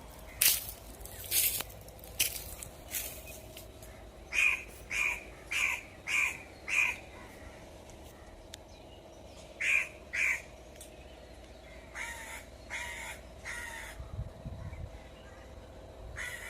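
Harsh, repeated cawing of crows in trees, a run of evenly spaced calls then a short pair, with quieter outdoor ambience between.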